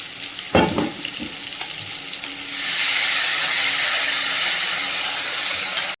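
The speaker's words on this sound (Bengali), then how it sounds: "সবজিটা খুব ভালো করে কষিয়ে নিয়েছি, এবার জলটা দিয়ে দেবো।" Water hits a pan of sautéed vegetables with a sudden loud, steady sizzle and hiss, preceded by a few clanks and stirring knocks against the pan.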